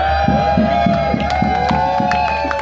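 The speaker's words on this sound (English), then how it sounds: "Now I can't stop you cheering" Crowd cheering at a university staff strike rally over fair pensions, a steady loud wall of voices with a rhythmic pulsing chant or clapping beneath and a sustained tone running through.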